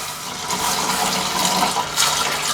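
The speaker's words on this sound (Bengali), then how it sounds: "এখন আমি এই ডালগুলোর মধ্যে 2 কাপ পরিমাণ পানি দিয়ে দিচ্ছি।" Water is poured steadily into soaked masoor lentils in a wok, a close, continuous rushing splash that holds even for about two and a half seconds.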